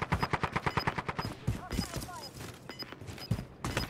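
Rapid automatic gunfire in a Call of Duty match: a steady, loud burst of evenly spaced shots, then scattered shots and clatter, with players' voices talking over it.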